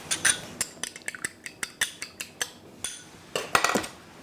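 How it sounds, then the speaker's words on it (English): An egg beaten with a fork in a bowl for pastry dough, a quick run of sharp clinking taps against the dish, near and fairly steady, with a brief denser flurry toward the end. "I beat an egg."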